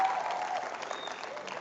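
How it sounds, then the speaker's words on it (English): An audience at a faculty development programme on entrepreneurship claps in steady, dense applause that tapers slightly, heard from within the room. "So you can give yourself a round of applause one more time,"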